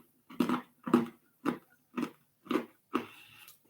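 A person bites into crunchy dog snacks, making six evenly spaced, close, sharp crunches about half a second apart, with no talk.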